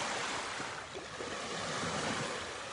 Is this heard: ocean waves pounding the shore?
yes